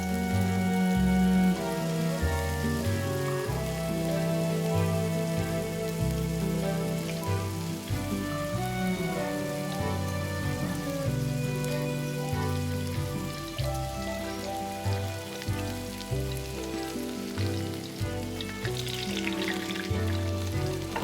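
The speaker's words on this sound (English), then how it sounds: "I'm only frying 3 at a time because I don't want to overcrowd the pan" Battered flowers deep-frying three at a time in a pan of oil make a steady, dense sizzle and crackle that holds constant throughout, under soft background music with no talking.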